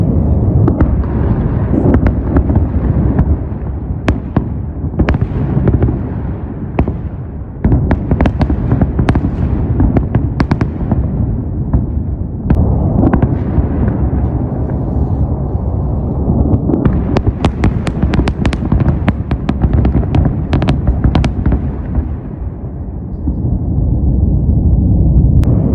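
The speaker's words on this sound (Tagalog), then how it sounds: "kung saan makikita ang sunod-sunod na mga pagsabog" Successive explosions from overnight bombing attacks on Iranian cities such as Esfahan and Qom: loud, rapid booms and sharp cracks fire repeatedly over a continuous rumbling roar, close and intense throughout.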